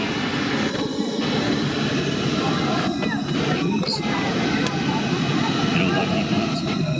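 A Lockheed Martin F-35C fighter jet flying at the Miramar airshow gives a steady, loud, broadband roar that fills the whole stretch, with crowd noise and a voice beneath it.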